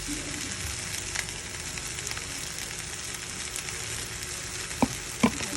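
Sauce hits a hot pan and a steady, even sizzle of frying fills the clip, broken only by a couple of brief clicks near the end.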